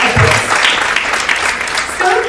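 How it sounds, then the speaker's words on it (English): Audience clapping at a school prize distribution function in honour of Dr. Madhukar Dalvi, a loud, brief burst of applause with voices mixed in throughout. "So I think he deserves a louder applause."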